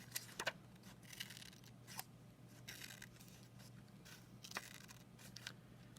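Scissors snip a paper fringe on a paper cylinder craft in a string of quick, crisp, close cuts at an uneven rhythm against a low steady hum, with no talk.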